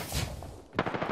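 Bursts of video game gunfire crackle in a short exchange, a first spray followed by a louder cluster of rapid shots, close and dominant with no talk over it.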